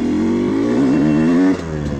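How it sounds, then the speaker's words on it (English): A CR250 motorcycle engine drones loudly and close during hard braking stops, holding a steady buzzing note before it drops off suddenly near the end. "So to do that, I'm just gonna do a couple hard stops."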